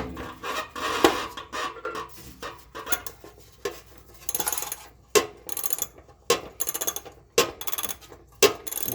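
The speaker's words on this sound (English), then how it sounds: "So we'll tighten it as much as we can here with a regular ratchet." A regular socket ratchet tightens a bolt while a trailer hitch is fitted under a 2021 Chevrolet Traverse, quick bursts of metallic clicking with short pauses and clanks between strokes, close and fairly quiet.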